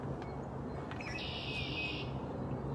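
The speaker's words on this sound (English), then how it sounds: "You can hear the birds yelling out there already." Birds chirp faintly in a suburban backyard with a small pond and a large tree, with brief high calls over a steady low outdoor hum.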